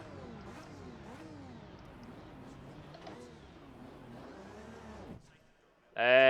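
An Aston Martin AMR V12 race car in a racing game at Bathurst revs in repeated rising and falling sweeps at moderate level, drops away, then ends with a short, loud burst.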